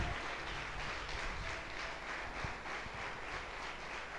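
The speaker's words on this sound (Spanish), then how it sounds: "Si le va a aplaudir al Rey." A church congregation applauds during an evangelical service, a quiet, continuous wash of many hands clapping at a distance, steady throughout with no voices standing out.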